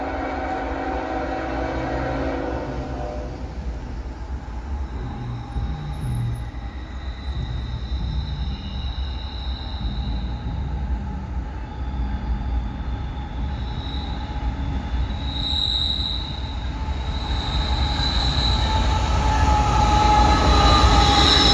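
A long CSX freight train rolls past at speed through Martinsburg with a heavy rumble, rhythmic wheel clatter and drawn-out metallic squeals, growing louder toward the end.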